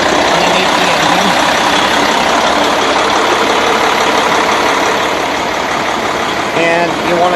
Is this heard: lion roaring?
no